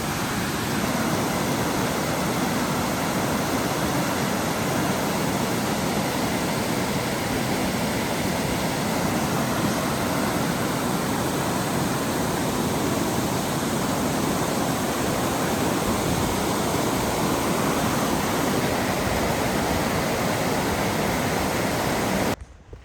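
A small waterfall beside the Bowman Trail in Oregon's Eagle Cap Wilderness gives a constant, close, broad rushing roar that holds steady for the whole stretch before cutting off.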